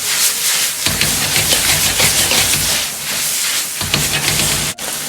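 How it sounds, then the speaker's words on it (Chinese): Lamb being stir-fried with scallions in a hot wok, a loud, dense hiss and sizzle with rough tossing noise throughout and a brief dip near the end. "快速的翻炒均匀"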